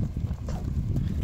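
Horse hooves strike the ground in a quick, uneven clip-clop, close and moderately loud against a dull low rumble, lasting only a moment with no talk.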